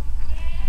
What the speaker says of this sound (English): So love to introduce you to our two goats